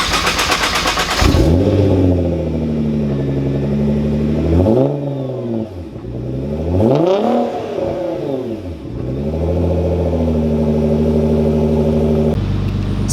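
A Nissan R35 GTR's engine starts up close by and settles into a strong, throaty idle, then rises and falls through several revs in smooth swells before steadying again, loud with no talking.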